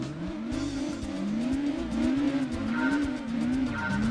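Racing car engine in the Gran Turismo 2 video game, a steady loud drone rising and falling in pitch as the car revs through gear changes, with faint tire squeal, continuous throughout.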